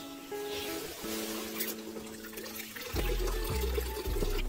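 Water from a weak, slow flow runs and trickles into a container, shifting to a fuller, louder gush partway through, with a faint hum in the background.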